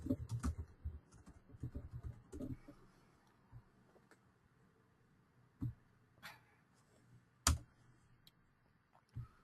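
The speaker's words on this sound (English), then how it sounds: "if I typed in a description" Typing on a computer keyboard while entering a description into a form: scattered, fairly faint clicks and taps with a few louder keystrokes spread across the stretch, over a quiet room.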